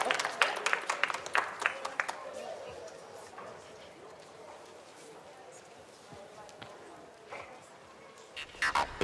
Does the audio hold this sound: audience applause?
yes